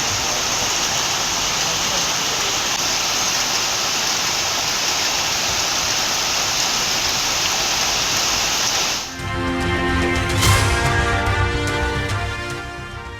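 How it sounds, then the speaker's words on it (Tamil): Summer rain pouring steadily in Tamil Nadu, a loud dense hiss of falling water that runs without a break, then cuts off abruptly to music. "தமிழ்நாட்டின் பல்வேறு பகுதிகளிலும் பெய்த கோடை மழை."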